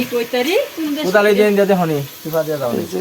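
Vegetable khichuri cooks in a big pot outdoors, with a steady sizzling hiss running underneath close, loud talking that dominates throughout.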